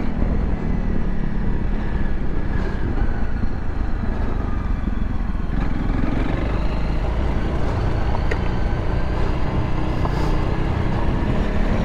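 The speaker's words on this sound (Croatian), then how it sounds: "non stop čujem ovdje u prednjem blatobranu kako kamenja udaraju u blatobran" A Honda CRF 300 Rally motorcycle rides off-road over stony ground, its engine and wind producing a loud, constant roar close to the microphone, with faint scattered knocks of stones striking the front fender.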